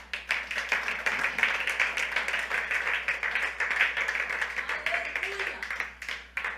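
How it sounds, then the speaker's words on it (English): A church congregation claps hands in a brisk, uneven patter of many palms, moderately distant and filling the room, with murmured voices mixed underneath. "If this blessed you, clap your hands"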